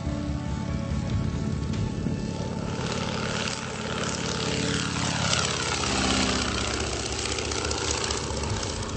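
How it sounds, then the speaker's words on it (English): 1943 Boeing PT-17 Stearman biplane on the tarmac at Mid-Valley Airport in Weslaco, a steady, loud propeller engine drone with throbbing low tones and a shifting pitch sweep partway through, with no voices. "With help from the crew, Eugene boarded the 1943 Boeing PT-17 Stearman on the tarmac of the Mid-Valley Airport in Weslaco."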